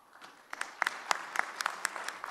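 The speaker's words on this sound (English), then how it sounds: "We have to applaud this man" Applause breaks out from a conference audience welcoming a speaker to the podium at an ocular surface society meeting: a steady patter of many hands with sharper individual claps popping out, fairly quiet and building slightly over a couple of seconds.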